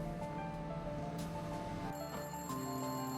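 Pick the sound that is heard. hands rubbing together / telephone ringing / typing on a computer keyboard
telephone ringing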